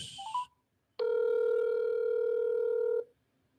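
A telephone ringback tone on an outgoing call: one steady, loud electronic tone lasting about two seconds, with brief chirps and hiss just before it and quiet after.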